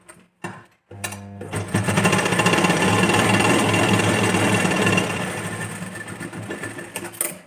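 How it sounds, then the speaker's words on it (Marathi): Sewing machine stitching across a blouse joint, running in a fast, steady mechanical chatter for about four seconds after a few short starts, then slowing and stopping. "परत एक स्टिच करून घ्यायची त्याच्यावरती जॉईंटवरती"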